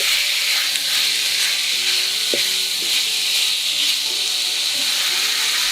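Kung Pao chicken seasoned with sugar and pepper is stir-fried in a hot pan, giving a loud, continuous sizzle with a few scraping clicks as it is mixed.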